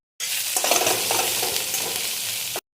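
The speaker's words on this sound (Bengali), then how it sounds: "দেবো কড়াইতে সামান্য তেল দিয়ে এবার পেঁয়াজগুলো দিয়ে দেবো।" Onions fry in a little oil in a kadai for homemade chowmein, a loud, steady, close sizzle that lasts about two and a half seconds with no talking.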